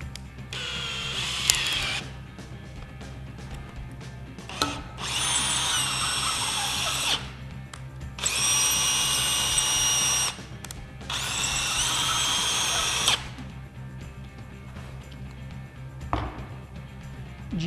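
A power drill drives a GRK Caliburn XL washer head screw in three sustained high whirring bursts, each about two seconds long, with short pauses and a few small clicks between them. No voices are heard.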